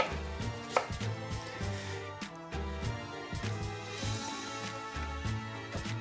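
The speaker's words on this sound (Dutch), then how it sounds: "Dus die komkommer snijden we ook mooi fijn." Fine, rapid knife chopping of cucumber on a cutting board while preparing an oyster cocktail, a steady series of close, crisp taps with no talking.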